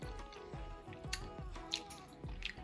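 Hot sauce mixed with paprika and cayenne is poured onto baked chicken wings, giving soft, close wet drips and squishy spatters in an uneven rhythm, with faint kitchen clatter.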